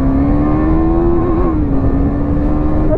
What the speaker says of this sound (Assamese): বহুত দিনৰ পিছত মোৰ বাইকৰ মাতটো শুনিছোঁ